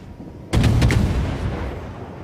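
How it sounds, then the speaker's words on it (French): Naval cannon fire in World of Warships, a sudden heavy boom with a few quick rumbling follow-up cracks, then a long decaying roar. "là on lui tire au canon"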